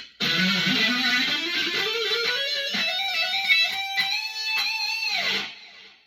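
An electric guitar plays a fast symmetrical run through the harmonic minor scale in a shred style, the notes climbing steadily upward in quick succession before a held final note that fades away, heard alone.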